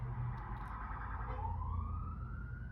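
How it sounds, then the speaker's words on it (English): A siren wails in the distance, its pitch sweeping steadily upward, heard over low rumbling background noise with no talking. "sorry guys about the siren."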